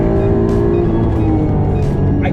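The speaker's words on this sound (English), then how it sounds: "Here in that V6 transition into VTEC" A Honda Legend's V6 VTEC engine pulls hard in second gear, a loud, close, continuous roar whose pitch climbs steadily as it revs, with faint tire noise alongside.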